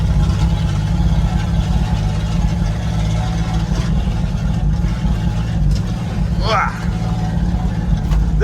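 A 1967 Chevrolet C10 truck engine labouring in first gear up a farm hill, a loud, steady low rumble running throughout with a brief rising squeal near the end.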